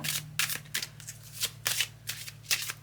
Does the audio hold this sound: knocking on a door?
no